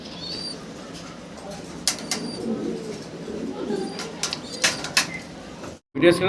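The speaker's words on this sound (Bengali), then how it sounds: "একজোড়া বাঞ্জা কবুতর আমরা দেখতেছি" Pigeons in a breeding loft at a farm, a pair among them, with soft cooing and intermittent bursts of wing flapping close by over a steady low background, ending in a sharp cut.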